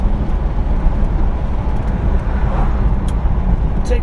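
A 1970 Chevrolet Camaro RS Z28 with a 360 hp engine, warmed up with the choke off, runs steadily while driving, giving a constant low rumble and road noise with no talk.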